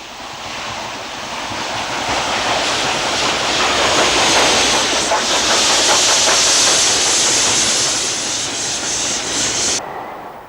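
An LMS Stanier Black Five steam locomotive passes close by on a curving line near Greyrig, its loud hissing steam and rapid rhythmic exhaust beats swelling to a peak mid-clip and easing off, with no talk.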